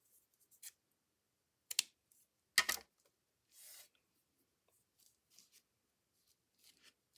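Scissors cut craft paper and trim: a few crisp snips and one longer slicing cut, close and quiet, with faint paper rustles between them and no talking.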